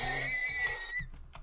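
A horse in the Minecraft SevTech modpack gives a loud, close, tonal whinny for about a second, then falls to low, scattered rustling.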